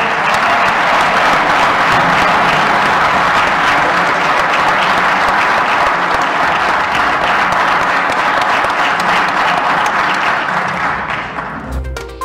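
A parliament chamber fills with a standing ovation, loud, dense, continuous applause from many people that holds steady for about eleven seconds before fading near the end.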